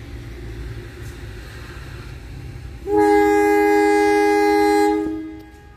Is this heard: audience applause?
no